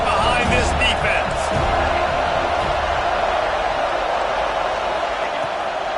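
Stadium crowd roaring behind the defense on a big third down in a Madden football game, a loud continuous wash of noise that swells early with some sharp thuds, then holds steady, with commentary voices over it.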